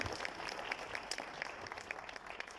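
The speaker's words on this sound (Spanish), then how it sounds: "Un aplauso, por favor, para sus ponentes." An audience claps for the panel speakers at a small-business forum, steady, moderately distant applause that continues evenly without voices over it.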